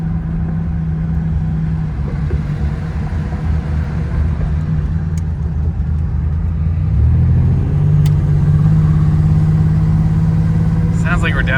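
Freshened stroker engine in a 1987 Buick Grand National idling rough as if down a cylinder, a steady low rumble that firms up and smooths out partway through, with a voice talking over it.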